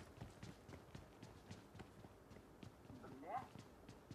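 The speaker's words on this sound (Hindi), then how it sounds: "मुझे पैरों की आवाज आई है" Enemy player footsteps in the mobile battle royale game PUBG Mobile, a steady run of quick soft thuds throughout, joined by brief game sounds near the end.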